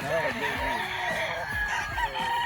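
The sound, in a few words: gamefowl stag rooster crowing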